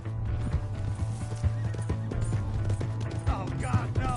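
A horse in a Western open-world video game neighs and clip-clops along in steady hoofbeats, with a whinny rising near the end over a low background hum.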